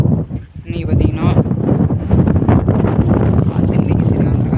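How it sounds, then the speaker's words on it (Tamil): Strong wind buffets the microphone in heavy, rumbling gusts outdoors, loud and continuous, with a person's voice partly heard under the roar. "காற்று இன்றைக்கி சரியான காற்று அடிக்குது"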